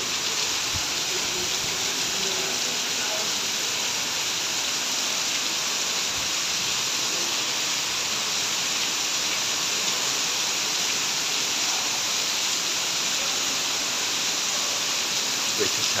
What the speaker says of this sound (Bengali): ভিতরে চলে আসছে বৃষ্টি, বৃষ্টির সাথে ভিজে যাচ্ছে।